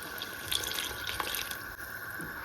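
Water pours steadily into a cooking pot of green banana and jackfruit seeds, a soft, continuous splashing stream, fairly quiet and close, with no voices.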